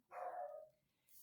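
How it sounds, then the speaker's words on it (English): A single dog bark, one bright yelp lasting about half a second, sounding somewhat distant behind a quiet indoor room, with no talking over it. "I apologize that my dog's barking in the background if you hear her"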